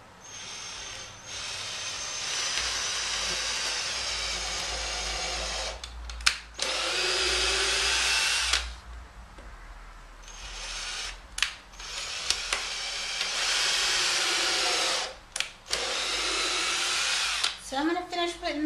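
A power drill bores starter holes into an outdoor wooden footstool in repeated whirring bursts with short pauses between them, close by, with some clicks and handling noise.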